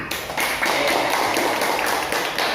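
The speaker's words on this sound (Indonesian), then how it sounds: "tepuk tangan" Classroom clapping from a group of students, a brisk, fairly loud burst of many hands with quick rhythmic taps sustained for a couple of seconds.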